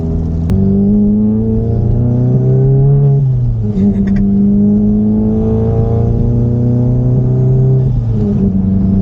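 A Volkswagen GTI fitted with an IS38 turbo accelerates hard from inside the cabin, its engine note climbing loudly through the revs, dropping at a gear shift, then rising again.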